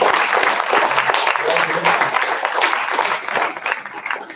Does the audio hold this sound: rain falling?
no